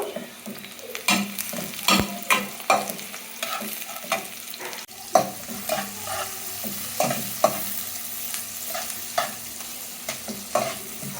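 Food for lunch frying in a pan on a home stove, a steady close sizzle with repeated scraping strokes of a spoon stirring through it, no voices.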